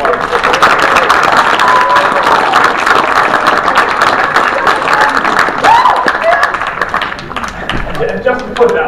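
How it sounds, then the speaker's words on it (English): A convention audience at an anime event breaks into loud, sustained applause, dense clapping filling the room with a few cheers and whoops rising over it, tapering slightly toward the end. "Give her a round of applause."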